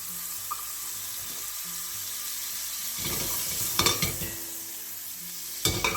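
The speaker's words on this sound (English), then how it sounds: "we're going to cook our asparagus tips that we saved earlier" Asparagus tips cooking in butter in a pan give a quiet steady sizzle, with soft stirring clatter and a couple of brief sharper scrapes near the end, no speech.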